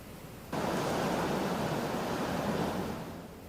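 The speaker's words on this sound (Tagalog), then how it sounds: "umapaw ang Marikina River" Overflowing Marikina River water rushes after nonstop heavy rain, a loud broad roar that surges in abruptly and holds steady before easing slightly at the end.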